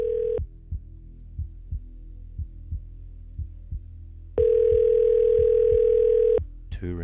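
An outgoing telephone call ringing, two long electronic ring tones separated by a pause, with a soft rhythmic pulse ticking underneath throughout.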